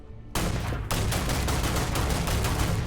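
Rapid semi-automatic gunfire in the space game Starfield, a loud, steady string of closely spaced shots after a brief quiet start, a short pause, then continuous firing to the end.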